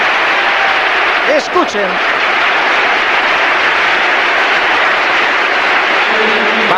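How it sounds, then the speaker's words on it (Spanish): A standing stadium crowd at the Bernabéu gives a sustained ovation as Zinedine Zidane is substituted during a 2002-2003 Liga match between Real Madrid and Athletic Bilbao, a loud, steady wash of applause and cheering with a brief voice over it. "Ovación cerrada en el Bernabéu, puesto en pie."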